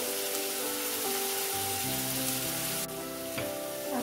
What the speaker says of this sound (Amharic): ድንቼን በዚህ መልኩ ነው የተፋፈርኩት።